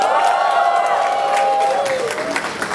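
Stand-up comedy audience cheering and whooping together at a live show, a sustained crowd roar with scattered claps and whistles over the full few seconds, loud and close.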